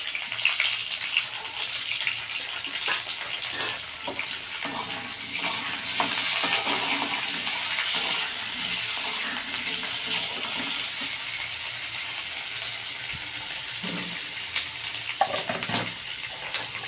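Two slit green chillies fry in a pan, producing a steady, moderate sizzle that lasts throughout, with occasional soft stirring scrapes and clatter.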